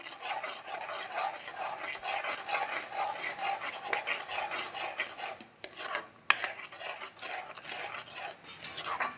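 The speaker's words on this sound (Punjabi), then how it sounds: "ਹੁਣ ਇਹਨੂੰ ਆਪਾਂ ਚੰਗੀ ਤਰ੍ਹਾਂ ਮਿਕਸ ਕਰ ਲਵਾਂਗੇ" Corn flour halwa prasad is stirred in a pan with a spoon, giving a continuous gritty scraping and rubbing. The strokes are fairly quiet and close, with one sharp knock partway through and no talking.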